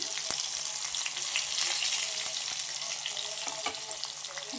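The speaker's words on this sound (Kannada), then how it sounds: "ದ್ರಾಕ್ಷಿ ಕೂಡ ಸ್ವಲ್ಪ ಫ್ರೈ ಆಗಲಿ" Raisins, cashews and green chillies fry in hot oil with a loud, continuous crackling sizzle, broken by occasional clicks of a spoon stirring in the pan.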